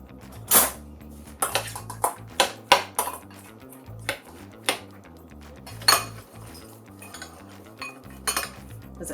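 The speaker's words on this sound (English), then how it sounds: "We're just going to stir that together." A spoon stirring salted chopped onions and okra together in a bowl, giving a string of crisp, close clinks and taps at an uneven rhythm with quiet pauses between strokes.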